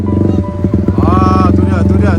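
A new motorcycle's engine idles steadily up close, a low humming drone running the whole time beneath a voice talking over it.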